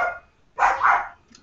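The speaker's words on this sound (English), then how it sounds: "Sorry, my dog's going berserk over what you're saying right now." Dog barking indoors, two or three short sharp barks close by, with a brief pause between them.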